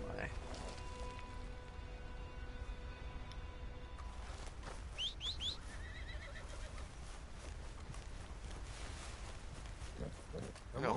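A horse in the video game Red Dead Redemption 2 lets out a sharp whinny midway, over steady game ambience with hoof clops and rainy background, while someone talks and reacts around it.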